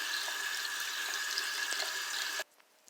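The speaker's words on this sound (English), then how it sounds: "Okay, it's all rinsed off." Water running from a tap while a face is rinsed, a steady close splashing hiss that stops abruptly near the end, leaving a few faint drips.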